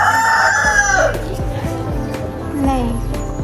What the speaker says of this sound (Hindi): आप देख सकते हैं पीछे मेरी अम्मी का मुर्गी खाना।